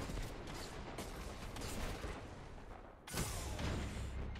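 Sniper rifle shots in Destiny 2 using the Revoker, fired solo against a steady, dense game backdrop, with one sharp loud crack near the three-second mark and fainter shots before it, no voices.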